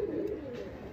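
A pigeon coos softly in one low, murmuring call, faint and close.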